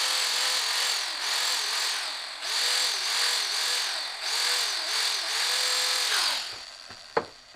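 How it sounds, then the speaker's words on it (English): A power drill whines steadily through pecan wood in repeated pulses, drilling holes in a peppermill, close and loud, then stops with a sharp knock at the end. "And I've got to drill out these holes."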